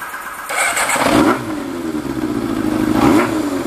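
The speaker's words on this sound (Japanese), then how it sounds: "オーナー様のね許可いただいてるんでエンジンの方かけていきましょうかね。" A Yamaha XJR400 air-cooled four-cylinder motorcycle fitted with a custom RPM-style muffler starts on the electric starter, with a short cranking whirr that catches into a close, loud engine note, followed by a second rev near the end.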